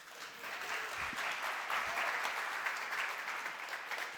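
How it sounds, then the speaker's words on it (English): Conference audience applauds as a speaker takes the stage, a continuous, moderately distant wash of clapping hands holding steady throughout. "The applause is a little too loud for a competitor of mine, but it'll do."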